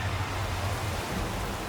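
Steady rain-like wash of noise with a low hum beneath, the magical rain of sura from a mythological TV series, continuous and moderately loud with no talk.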